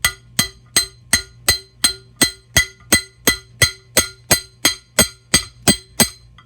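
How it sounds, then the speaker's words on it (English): Gentle hammer taps driving a part out of a Greenerd No.1 arbor press, about sixteen evenly spaced metallic clinks at a steady rhythm, close and clear with a bright ringing edge. "let's just see if it'll come out with a few gentle taps here"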